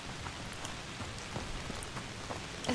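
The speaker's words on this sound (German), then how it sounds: "Mieser Regen." Steady rain falls in the video game A Plague Tale: Requiem, a soft continuous patter of drops on surfaces, fairly quiet and constant throughout.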